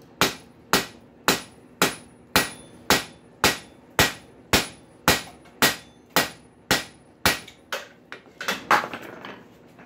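Steady hammer blows ring out on an anvil while a rail spike is forged into a tong head, about fifteen sharp, evenly spaced strikes, loud and close, growing quicker and lighter toward the end.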